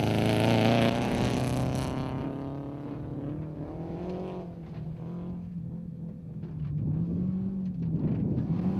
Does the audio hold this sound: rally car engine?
yes